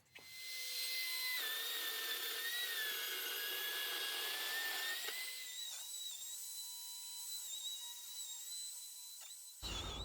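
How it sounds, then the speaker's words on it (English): A palm router fitted with a flattening bit works across a walnut and black resin slab, giving a steady, high-pitched whine with shifting tone as it cuts, easing slightly in load midway and stopping abruptly at the end. "We're going to flatten it with a palm router and a flattening bit."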